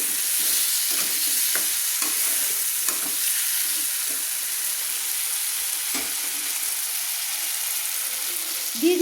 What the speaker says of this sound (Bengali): দিয়ে ভালো করে আমি মশলার সঙ্গে নেড়ে দিচ্ছি।